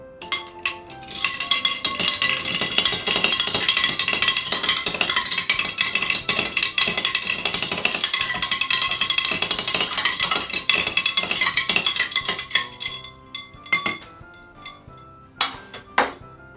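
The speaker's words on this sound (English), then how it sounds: "what we're going to do now is to give it a good stir" A cocktail stirred in a glass with a spoon, rapid continuous clinking and ringing against the glass and ice, close and bright, slowing to a few scattered taps at the end.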